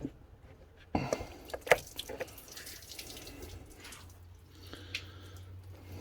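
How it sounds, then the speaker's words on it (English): Coolant trickling and splashing out of a loosened radiator hose on a VW Crafter van, a close watery flow broken by a few sharper drips and splashes at fairly low volume. "It's all draining out."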